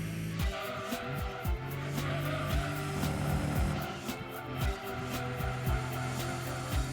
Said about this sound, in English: they start me off banging off limiter